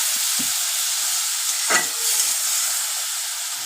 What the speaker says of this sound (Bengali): ওই যে মাংস চিকেনটা যে সেদ্ধ করেছিলাম সেই জল একটু দিয়ে দিই।